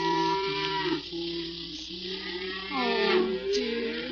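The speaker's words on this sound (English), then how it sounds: "It's only the cows." Cattle moo in long, low, drawn-out calls, several overlapping and fairly close, in a pastoral scene as a herd is driven home.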